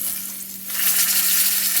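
Pork chops brown in a hot pan for smothered pork chops, giving a steady crackling sizzle that swells louder partway through and holds close and continuous.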